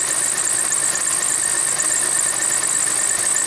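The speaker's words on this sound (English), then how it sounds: "Apologize for the belt squeal." Engine belt squeal from an Oldsmobile Silhouette minivan, a loud, continuous high-pitched screech held steadily over the running engine at close range.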